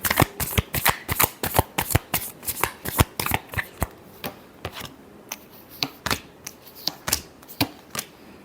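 Tarot cards being shuffled in quick repeated riffles, a dense run of crisp snapping flutters that pauses briefly and then resumes, close and clear with no talking.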